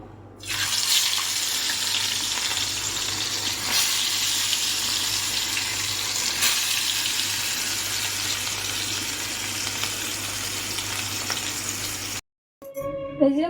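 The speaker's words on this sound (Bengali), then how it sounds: "মাছগুলো আমি ভেজে নিই।" Pieces of katla fish fry in hot oil in a pan, a loud, steady hiss and crackle that runs unbroken for about twelve seconds, then cuts off abruptly before brief clattering.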